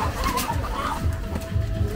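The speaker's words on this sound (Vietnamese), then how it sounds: "Gà đây thì anh em cho ăn ngô các bạn" Chickens cluck and murmur close by while being fed corn, a busy overlapping flock chatter with occasional sharper calls, no talk.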